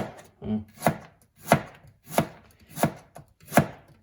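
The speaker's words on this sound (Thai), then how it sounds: "หั่นหน่อไม้ไว้อย่าหนามากเนี่ย บางๆหน่อย" A knife cuts through pickled bamboo shoots in thin slices on a board: five crisp, evenly spaced chops, close and fairly loud, with no talking.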